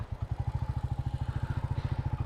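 A Royal Enfield Classic 350 motorcycle engine chugs nearby in a fast, even rhythm of low thumping pulses, running steadily with no talk.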